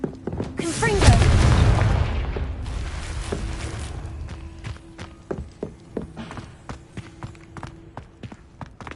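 Confringo fire spell cast in Hogwarts Legacy, a loud booming explosion near the start that rumbles and fades, followed by a series of light footsteps and small impacts.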